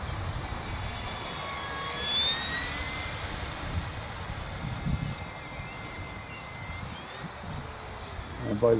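An E-flite 1.5 m Turbo Timber Evolution RC plane flies overhead with a whining electric ducted-fan tone that rises and falls in pitch as it passes, set against outdoor wind noise and a faint voice.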